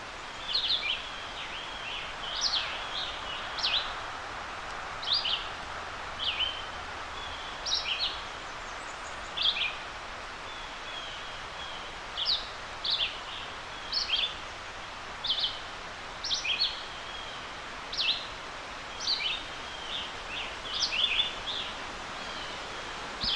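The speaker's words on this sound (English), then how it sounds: "I was hearing these beautiful bird songs" Bird song rings out in short, bright phrases repeated every second or two, fairly close, over a steady hiss of rustling background noise, in a forest in Pennsylvania.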